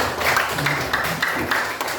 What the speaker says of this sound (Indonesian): Tepuk tangan dulu untuk adik Nana